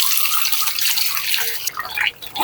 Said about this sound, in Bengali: এবার আমি এই লবণ দেওয়া ঢেঁড়সটাকে ভালো করে ধুয়ে নিব।